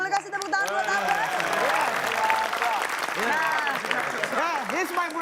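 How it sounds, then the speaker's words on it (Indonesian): Audience applause for a guest on an Indonesian quiz show, a steady wash of clapping running through the whole stretch with loud voices talking and calling out over it. "Boleh kasih tepuk tangan buat Abbas?"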